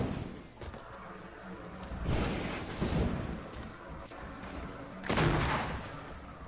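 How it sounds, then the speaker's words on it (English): Fortnite gunfire comes as bursts of rapid in-game shots and muffled blasts, rising and falling over about six seconds, with a sharp loud volley near the end. "They're shooting you, I just know it."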